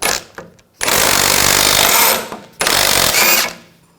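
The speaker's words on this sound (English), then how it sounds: "Remove this nut. Use a 22mm socket." A power tool, probably an impact wrench with a 22mm socket, loosens a nut on the front lower control arm of a 2000-2006 BMW X5, in two loud bursts with a short pause between.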